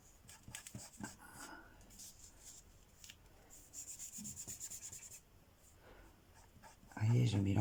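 Cotton rubbed across oil pastel on paper to blend sunset colours, soft scratchy rubbing strokes in bursts with quiet gaps, ending in a louder handling noise.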